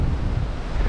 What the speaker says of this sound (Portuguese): A maré tá baixando e o mar hoje tá bem calminho, não tem onda quase.